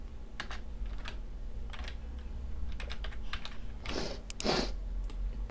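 Light, irregular clicking of typing on a computer keyboard, close and quiet, with a denser cluster of keystrokes near the end and no speech.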